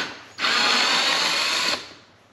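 A T15 Torx bit on a power driver spins out a screw from the trunk lid of a C7 Corvette, a loud steady whirring burst lasting over a second, close up and alone.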